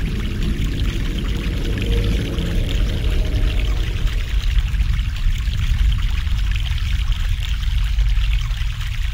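Mountain water pours in The Longest Journey, a loud, steady stream splashing continuously for several seconds, its tone shifting slightly partway through, with no voices.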